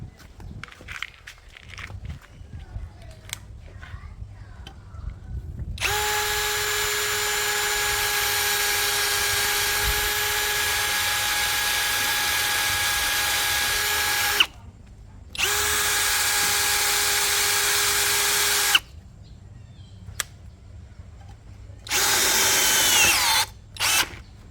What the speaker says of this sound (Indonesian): Sekarang kita akan memasang baut self drilling seperti ini.